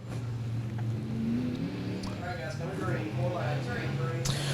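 Local-class race cars rev and accelerate onto the backstretch at Mountain Motor Speedway, a droning engine tone rising in pitch, somewhat distant beneath a commentator talking steadily.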